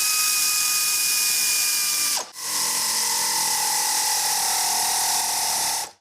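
Power tool running close by while exhaust hangers and clamps are tightened on a 2019 Ford F150 5.0L with an MBRP side-exit exhaust: a loud, steady whine, a brief dip midway, then a continuous drone to the end.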